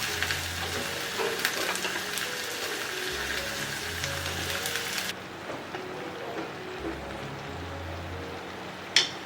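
Fish pieces stir-frying with ginger, garlic, mushrooms and onion in a clay pot, a soft steady sizzle with faint scraping that drops away partway through, ending on one sharp clink.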